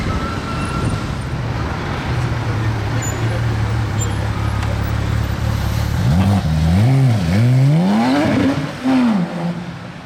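A car, likely a Bugatti or Ferrari supercar, pulls away in Monaco: a steady low engine idle gives way to rising and falling revs as it accelerates off, sweeping up and down through several gear changes, fairly loud and close.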